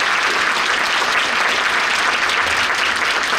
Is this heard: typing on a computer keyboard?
no